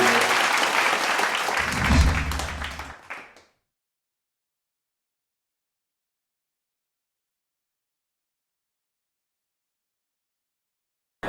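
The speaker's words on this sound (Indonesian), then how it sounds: "Mari kita beri tepuk tangan yang meriah, Bapak Ibu sekalian" Loud, dense audience applause at a summit in Jakarta fills the opening three seconds, then stops abruptly and leaves near silence.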